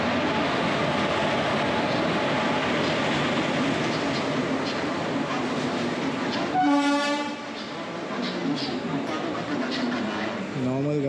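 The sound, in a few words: train passing with horn on Mumbai to Goa route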